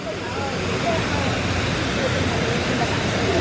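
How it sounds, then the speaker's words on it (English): Steady broadband rush of a waterfall on O'ahu, Hawaii, constant and fairly loud throughout, with faint traces of other voices or birds under the roar. "And right across is this waterfall."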